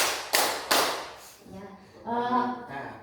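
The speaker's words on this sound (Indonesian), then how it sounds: "Tepuk 1, tepuk 2, tepuk 3." A few sharp hand claps in a counted rhythm ring out close by, followed by a voice speaking briefly.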